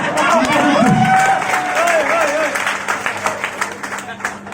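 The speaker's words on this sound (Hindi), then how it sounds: "ताली बजाएं" An audience claps after being asked to applaud for a Ferrari, with steady clapping rising under a speaker's voice before breaking into scattered, thinning claps.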